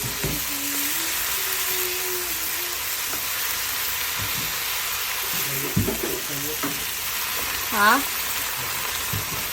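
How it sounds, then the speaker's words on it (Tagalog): Vegetables being stir-fried in a pan alongside already cooked pork, with a steady sizzle and occasional stirring scrapes running throughout, while people talk over it nearby. "Lagay mo na fry yung gulay."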